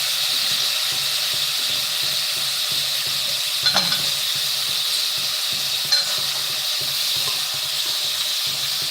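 Prawns and potato fry in a pan with a steady, loud sizzle throughout, broken by a couple of sharp clinks as they are stirred.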